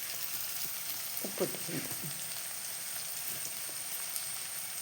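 Onions for vegetable kurma sauté with a little salt in a pan, giving a steady, soft sizzle throughout with a brief clatter of stirring near the middle and a short spoken word.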